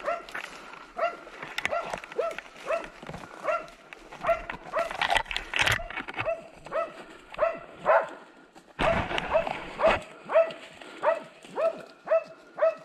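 Hunting dogs barking during a wild boar hunt: repeated sharp barks and yips at close to middle distance in a steady rhythm, with an occasional whimper and a burst of louder barking partway through.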